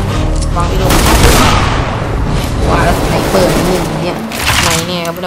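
Loud, continuous machine-gun fire in Counter-Strike: Global Offensive, dense overlapping bursts of shots with booming impacts running throughout, close and dominant, with a voice talking over it.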